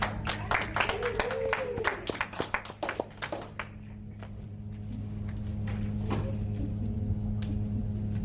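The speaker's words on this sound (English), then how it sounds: "let's get a warm welcome of applause." Audience applause at a poetry event, a burst of clapping from a crowd in the first few seconds that thins into scattered claps and fades into room murmur with a low steady hum beneath.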